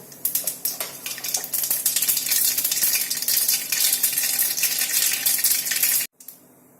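Mustard seeds drop into hot oil in a wok for a Marathi cabbage masala, bursting into a loud close sizzle with dense crackling and popping that cuts off abruptly near the end.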